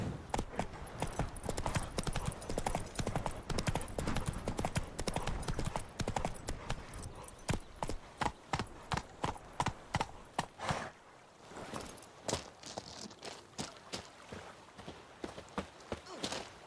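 Hooves of the horse Roach clip-clop rapidly at a gallop in The Witcher 3 video game, a dense fast rhythm that slows into separate trotting beats toward the end, close and clear.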